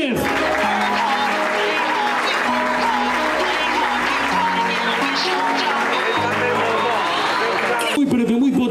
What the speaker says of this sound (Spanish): El Atlético Baleares, fuerte aplauso para Borja Martínez